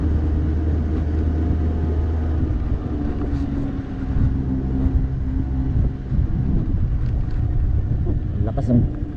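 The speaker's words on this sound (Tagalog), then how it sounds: "Lakas ng ihip ng hangin." Steady wind rumble buffets the microphone on a motorbike ride, a low roar of air rushing past, continuous throughout with a few faint higher sounds.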